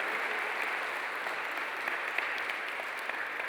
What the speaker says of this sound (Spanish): Eso merece un aplauso a Cristo.